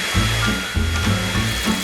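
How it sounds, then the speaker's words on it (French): A hair dryer blows steadily to melt a cooking preparation, a loud continuous whirring with slight wavering pulses in the airflow. "Avec ce sèche-cheveux, je vais faire fondre ma préparation."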